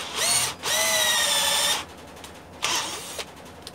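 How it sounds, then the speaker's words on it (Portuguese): Mondial cordless drill driver drilling at its first speed setting: a loud, close motor whine that runs about a second and a half with a brief dip, then a shorter burst after a pause. "Vamos ver se ela fura direto na velocidade 1."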